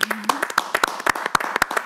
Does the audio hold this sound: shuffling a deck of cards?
no